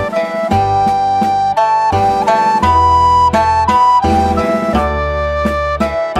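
A recorder plays the Korean folk song Arirang, a slow, lilting melody of clear sustained notes over a low backing accompaniment, loud and close throughout with no voices.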